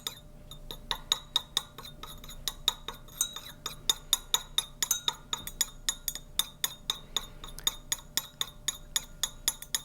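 Crystals are stirred in a glass during a lab titration, giving a steady run of bright clinks and ticks roughly every third of a second, close and fairly quiet, with no voices.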